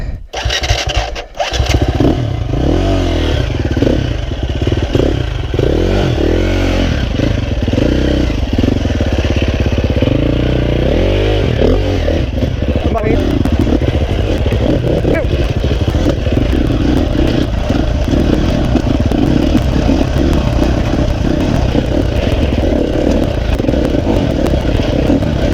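KTM 300 XC-W two-stroke dirt bike climbing a tricky trail, its engine loud and close throughout, revving and clattering steadily with fluctuating pitch after a brief sputtering start.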